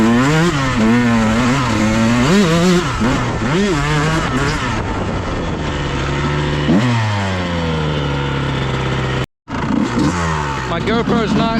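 A 2001 Honda CR125 two-stroke dirt bike with reed and exhaust manifold upgrades revs up and down in repeated close, buzzing throttle blips, then settles to a steadier drone, cuts out briefly and picks back up.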